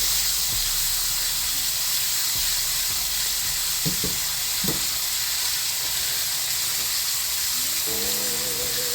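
A tomahawk steak sizzles in a pan of melting butter, a steady loud hiss and spatter close by, broken by a few soft clinks of a utensil.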